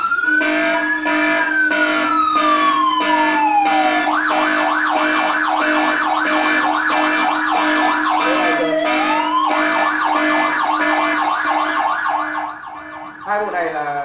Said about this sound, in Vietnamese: Còi hú lên.